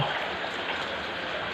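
Flood water flows in a steady rushing wash with a fine trickling texture, close and even throughout the brief moment, with no talk over it.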